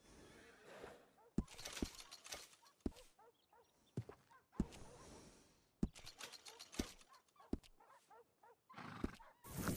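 A horse neighs and whinnies repeatedly amid sharp thuds and clattering, with voice-like sounds mixed in, in a busy soundscape from the video game Red Dead Redemption 2.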